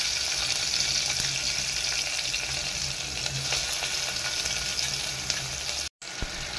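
Chopped tomatoes hitting hot oil in a pan already holding mustard seeds, cumin, chilies, garlic and curry leaves, a loud steady sizzle and fry close up, with no talking, cut by a short drop near the end.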